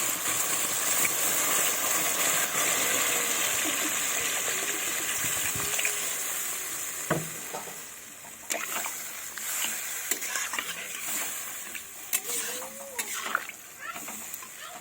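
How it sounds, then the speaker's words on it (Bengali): Water is poured into a potato fish curry in a pan, a loud gushing splash in the first half that then fades into quieter stirring clinks and bubbling. "এবার আমি জল দেব"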